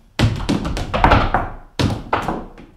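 Tap dance shoes on a hard floor doing a shuffle ball change, several crisp close taps in quick rhythmic bursts with a short pause between two groups.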